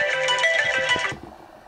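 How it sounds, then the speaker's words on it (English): A phone alarm ringtone rings loud and close for about a second with bright repeating tones, then cuts off, leaving faint low rustling. "That's my alarm."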